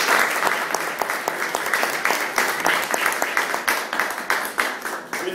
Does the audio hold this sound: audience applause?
yes